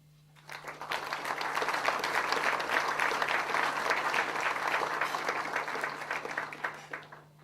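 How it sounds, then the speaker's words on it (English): Applause from an audience at an open source awards event for government use, a sustained crowd of hands clapping that swells quickly, holds steady for several seconds, then tapers off, with no talking. "I think we should applaud them for that"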